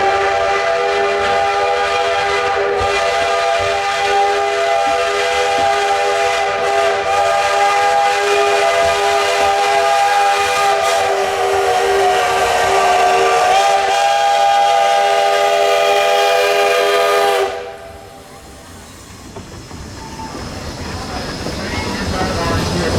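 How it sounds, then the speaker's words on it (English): Shay steam locomotive rolling past at a steam museum, a long loud sustained whistle with rich harmonic tones lasting many seconds before cutting off abruptly, followed by rising mechanical chuffing and rumble. "the Shay also rolled by as it had finally cleared the line"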